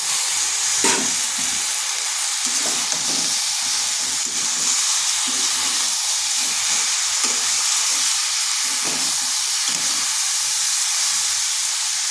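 Pumpkin and greens frying with spices in a pan, giving a loud, continuous sizzle and hiss with faint stirring underneath, close by and without voices.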